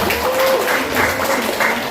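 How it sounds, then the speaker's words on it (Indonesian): Audience applause at an installation ceremony for Muslimat and Fatayat NU district branches in Jatisari, Karawang, a steady dense patter of clapping filling the two seconds with a faint tonal whine beneath. "tepuk tangan untuk Bapak Lurah kita"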